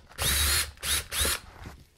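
A power drill bores a hole for a seat heater button in a Nissan Xterra install, giving three short close whirring bursts, the first longest, separated by brief pauses, with no talk.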